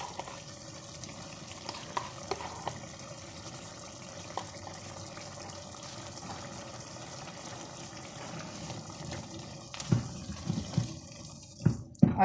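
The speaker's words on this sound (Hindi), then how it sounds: "जब ये भून रहा होगा, ये पक रहा है, बॉईल आना शुरू हो गया" A chana pulao base of frying masala just coming to a boil in a pot, a soft continuous sizzle and bubbling with occasional stirring knocks, louder clatter near the end.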